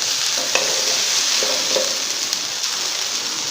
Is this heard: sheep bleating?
no